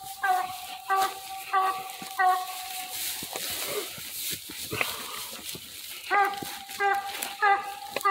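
A coon dog barks at a treed animal during an outdoor training hunt, its bursts of harmonic barking coming in two clusters at the start and the end, a steady moderate distance away over rustling background noise.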